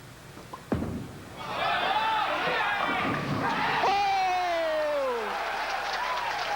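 Applause and crowd noise at a 1987 senior and touring pro doubles bowling tournament swell after a single thud, a steady mid-distance clatter of clapping that carries on for several seconds with faint voices and a whistle-like tone.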